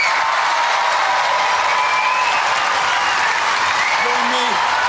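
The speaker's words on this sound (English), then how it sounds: "Ladies and gentlemen, give a round of applause to all our roboteers." A studio audience at a Robot Wars featherweight competition applauds the roboteers with loud, continuous dense clapping and crowd noise, a steady wash with faint tonal sounds over it toward the end.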